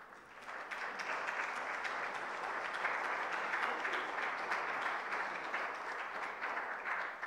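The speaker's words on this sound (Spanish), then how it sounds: "El aplauso también, por favor, para ella." Sustained applause from an audience at an international forum and recognition ceremony at Universidad Tomás Frías, a dense, steady wash of many hands clapping throughout, moderately loud with no talk over it.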